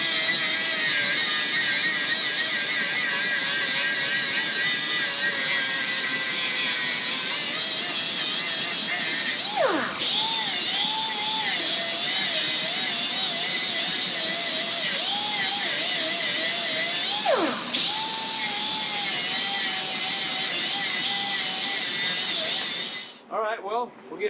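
In a machine shop, a tool cuts an ear off a Rover engine block, giving a loud, continuous high-pitched grinding whine that dips in pitch twice under load before cutting off at the end.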